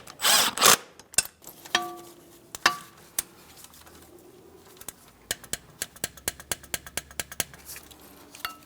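Ratchet driving an 8mm-headed wheel speed sensor mounting bolt on a 2015-2025 Ford Transit 250: a run of sharp, evenly spaced clicks close by, following a few scattered handling knocks.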